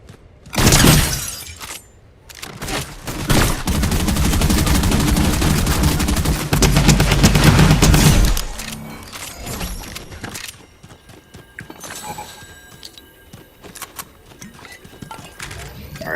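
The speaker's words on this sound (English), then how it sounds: "I know he was using the rocket launcher to break down those builds." Fortnite gunfire and rocket launcher blasts tear through player-built structures in a loud, sustained barrage of shots and crashing, shattering debris lasting several seconds before dropping to quieter in-game sounds.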